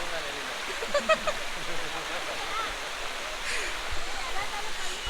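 Steady rushing monsoon water flows continuously beside a ghat road, a broad even wash of sound, with faint voices briefly audible.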